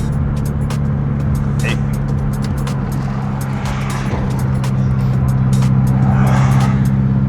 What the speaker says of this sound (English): I want you guys to hear the 63mm pipe, Braza pipe on his car.